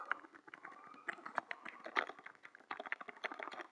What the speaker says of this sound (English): Sorry for all the clickety clack because I'm using my controller's microphone